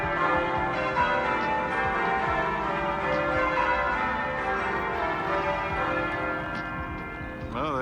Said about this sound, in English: There's the bells there, you can hear with St Peter's Cathedral.